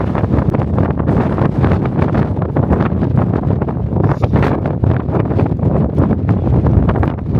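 Strong wind buffets the microphone outdoors on the Isle of Skye, a loud, continuous roar with gusting surges throughout and no talk.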